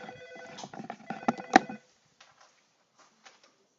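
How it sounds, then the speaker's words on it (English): A telephone rings in a classroom, a few short electronic trills close by that stop abruptly, followed by near silence. "And I've got a phone call."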